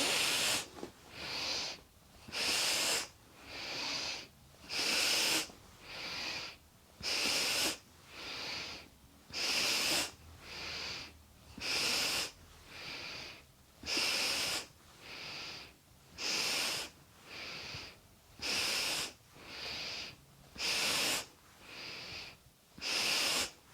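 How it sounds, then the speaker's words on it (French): Kundalini warm-up breathing exercise: about twenty rhythmic, forceful breaths, alternating sharp hissing inhales and exhales through the nose and mouth, close and steady, with no talk. "Inspire vers l'avant, expire vers l'arrière."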